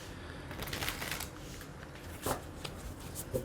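Tarot advice cards being shuffled by hand, a steady papery riffling and sliding with a few sharper snaps near the end, close and fairly soft, with no voice.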